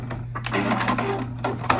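A sewing machine runs a short back stitch along a pillow seam, a steady mechanical whir with a low hum throughout, close and continuous for under two seconds with no voices.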